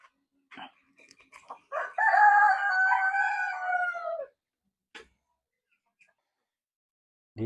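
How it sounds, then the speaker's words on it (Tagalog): Native and crossbred heritage chickens roaming a backyard farm, with a few short clucks followed by one loud, drawn-out rooster crow nearby and scattered faint clucks afterward. "Maraming manok dito nakagala. Mga native chicken at saka cross hatting heritage."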